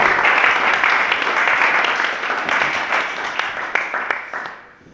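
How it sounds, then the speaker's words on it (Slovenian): Steady audience applause at a startup evening event, dense and fairly loud for several seconds before tapering away at the end. "en aplavz za to deljeno bolečo izkušnjo"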